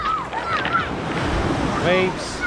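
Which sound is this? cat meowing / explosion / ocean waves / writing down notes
ocean waves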